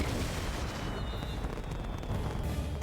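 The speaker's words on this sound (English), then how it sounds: "Oh, all the fireworks, right?" Fireworks explode in the Avatar: The Last Airbender episode The Deserter as a dense, continuous wash of loud booming bursts and crackle, with no clear gaps between blasts.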